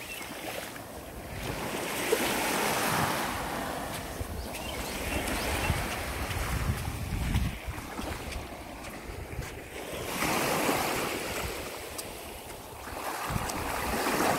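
Ocean waves wash onto a beach in slow, repeated surges, heard from close by at moderate volume under steady wind buffeting the microphone.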